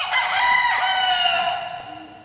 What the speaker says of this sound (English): And immediately, a cock crowed.